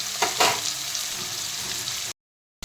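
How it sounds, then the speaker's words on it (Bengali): Potato pieces sizzle in a frying pan, a continuous close crackle with a couple of louder stirring bursts near the start, then a brief cut to silence before the sizzle resumes. "আলুটা একটু ভেজে একটু তুলে রাখবো"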